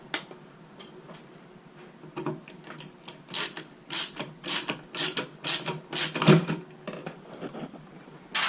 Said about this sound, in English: remove the old mounting base.